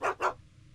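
A dog barks twice in quick succession in the Back to the Future video game, two short, fairly close yaps followed by quiet.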